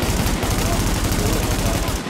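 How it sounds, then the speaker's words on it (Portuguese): Rapid bursts of loud gunfire in The Division crackle continuously for a couple of seconds, dense and close, ending abruptly. "Ah, mais um tiro."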